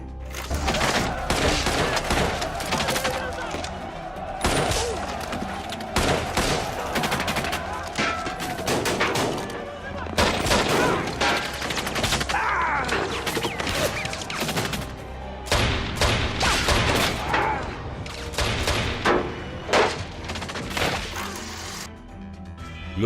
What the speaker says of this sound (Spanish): Los disparos rodearon a los militares.